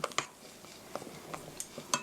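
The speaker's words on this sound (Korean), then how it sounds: "이렇게 자르듯이 고루 섞어주세요" A spatula folds strawberry cake batter in a bowl, giving faint scattered clinks and soft scrapes against the bowl in a quiet kitchen.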